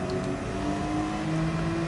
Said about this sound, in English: that engine noise is a bit overpowering